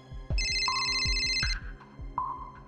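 A mobile phone's ringtone plays for an incoming call, a bright electronic melody with sustained tones over a thumping rhythmic beat, fairly loud with no talk.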